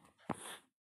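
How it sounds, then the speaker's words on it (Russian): A single short dog bark or yelp from a video game, one quick muffled sound lasting well under a second, then silence. "Там собака."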